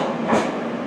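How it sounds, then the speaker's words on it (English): Yekaterinburg Metro train pulling into a station, a steady broadband rumble of wheels and carriage noise that swells briefly then holds, close and fairly loud, with no talk. "As this train arrives,"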